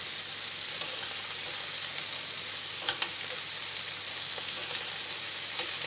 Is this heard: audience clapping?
no